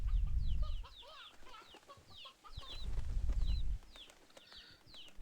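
Chickens cluck and chirp in a farm video game, quick bursts of clucking over low bursts of background game sound.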